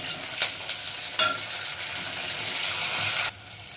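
Onions, curry leaves and green chillies sizzle in hot oil with ginger garlic paste, a steady broadband fry broken by a few sharp stirring clacks, then cutting off abruptly near the end.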